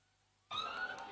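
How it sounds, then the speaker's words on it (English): Siren marking a no ball at a cricket match, bursting on abruptly after a near-silent start and holding loud and steady to the end. "this siren tells you what is the story"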